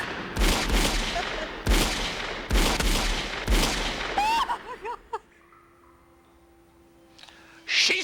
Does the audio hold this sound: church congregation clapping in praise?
no